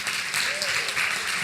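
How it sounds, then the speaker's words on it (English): A conference audience gives panelists a short round of applause, a brief steady patter of clapping with faint murmuring beneath it. "give them a round of applause."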